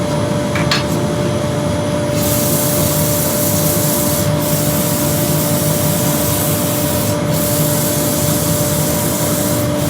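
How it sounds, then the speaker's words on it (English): Steady abrasive whirring of a rotary sander with 240-grit working over a wood-turned platter, continuous and close with no talking, a faint hiss at the start. "That was 180, so now a 240 on both hand sanding and rotary."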